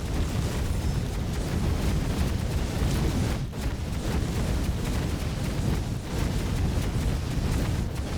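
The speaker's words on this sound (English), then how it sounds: "We have become an explosion." A sustained, loud roaring blast rumbles through a Death Must Die battle, a dense broadband wash with deep low-end boom and brief dips around the middle and near the end, with no voices.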